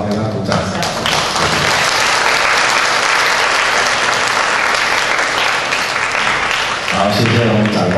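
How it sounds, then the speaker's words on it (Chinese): An audience at a joint primary school music exchange concert claps loudly and steadily, a dense wash of applause filling the hall, with a voice speaking over it near the end. "好，给他鼓掌"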